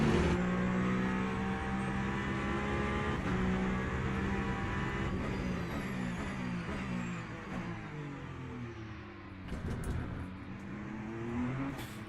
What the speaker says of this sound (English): Here comes the Ferrari acceleration.